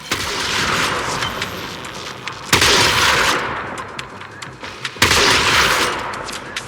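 Explosions in the video game Warframe with debris falling, heard as two sharp loud blasts about two and a half seconds apart over a dense, continuous crackling rumble of gunfire-like noise.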